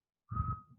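A brief, sharp whistle blown by mouth in a studio mimics a referee's whistle, a single steady tone over a low breathy rumble.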